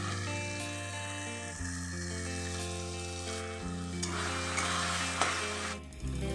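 Spiced masala with turmeric is stir-fried in a pan, a steady close sizzle with occasional stirring scrapes, running continuously beneath background music.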